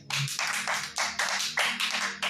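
A church congregation claps in a steady, even rhythm, about six firm beats a second, close and lively, with no voices over it.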